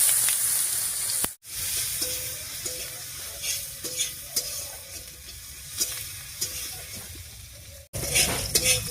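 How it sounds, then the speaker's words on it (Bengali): Chopped onion fries in hot oil with whole cumin and a dried red chili, sizzling steadily while a spoon stirs and clinks against the pan at a regular pace, close up. "এবারে দিয়ে দেব পেঁয়াজ কুচি।"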